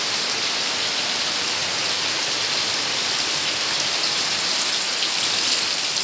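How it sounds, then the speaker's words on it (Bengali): Steady, dense rain pours down outdoors during a storm after thunder, a continuous hiss of drops hitting surfaces, even and fairly loud throughout with no voices. "বৃষ্টি পড়ছে"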